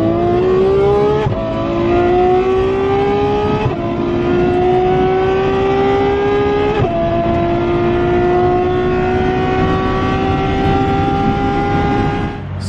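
A straight-piped Ferrari F12 V12 with dual-clutch gearbox revs hard and loud up through several gears, each climb broken by a quick shift and a drop in pitch, the engine running close and unbroken throughout.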